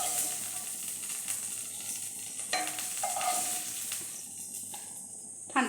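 Carrots being stirred in a frying pan, with a soft continuous sizzle and hiss and intermittent scraping strokes of a utensil, quiet and close, ending in a louder clatter.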